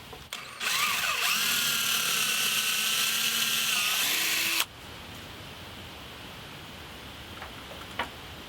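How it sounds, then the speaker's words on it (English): A drill with a 3/8 inch bit runs loud and steady for about four seconds, its motor pitch shifting as the bit bites through wood, then cuts off, leaving quiet room noise. "And now I'm using a 3/8 inch drill bit to drill through."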